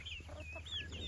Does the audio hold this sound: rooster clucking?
yes